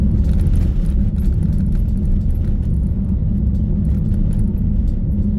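A vehicle's engine running while it drives along a scenic coastal route on a bank holiday weekend, a steady low rumble and road drone heard from inside the cabin, with a faint jingle of keys on top.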